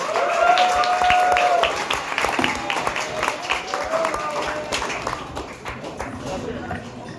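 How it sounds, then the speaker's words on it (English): A stand-up comedy audience applauds and cheers at close range, loud clapping fading gradually, while a voice speaks over the noise. "Another round of applause."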